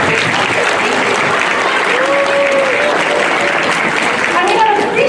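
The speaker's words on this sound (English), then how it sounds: "Nicely done. Round of applause." A crowd of children and adults at a school celebration gives a round of applause for the grade 1 classes, loud continuous clapping with voices and cheering mixed in.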